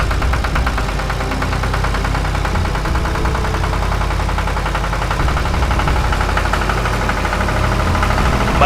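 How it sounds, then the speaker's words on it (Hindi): A mini tractor engine runs loud and close, a steady knocking idle rumble with constant vibration throughout. "मिनी ट्रैक्टर को चलाकर राम जी के पास जाता है।"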